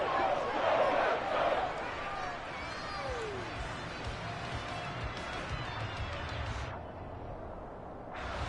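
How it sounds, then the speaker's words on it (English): A stadium crowd roars and cheers in an EA Sports American football video game as a big third down approaches, a steady broad wash of noise under play-by-play commentary. "the crowd getting into it as we come up on a big 3rd down"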